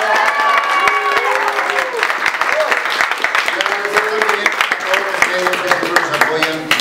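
A theatre audience applauds the staff with sustained clapping mixed with cheers and voices, lively and loud from start to finish.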